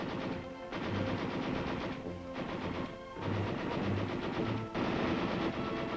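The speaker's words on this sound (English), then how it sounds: "Then we fired the record course with the light machine gun." A light machine gun fires on a training range during ROTC summer training, in short sustained-fire bursts of about six rounds each. Several loud, rapid bursts sound close by, separated by brief pauses.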